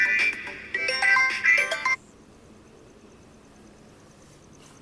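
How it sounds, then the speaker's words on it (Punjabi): A phone ringtone plays loudly for about two seconds as a bright, repeating electronic melody, then cuts off abruptly, leaving a quiet room. "ਕਿਹਦਾ ਫੋਨ ਆਈ ਜਾਂਦਾ"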